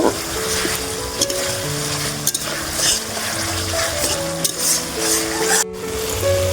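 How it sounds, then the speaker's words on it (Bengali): Fried pointed gourd (potol) is stirred and sautéed in spice masala in a pan, a steady close sizzle with occasional scraping knocks, over sustained background music. "এবার আমি পটল দিয়ে মশলাটা ভালোভাবে আবার একবার কষিয়ে নেব।"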